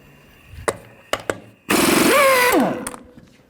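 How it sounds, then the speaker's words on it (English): An impact wrench fitted with a 22mm socket removes lug nuts from a Ford E-250 front wheel: a few sharp knocks, then a loud sustained hammering whir lasting about a second before winding down, close and alone. "Take the lug nuts off."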